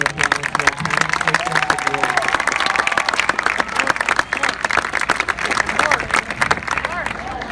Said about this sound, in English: we should hear a huge round of applause for our parents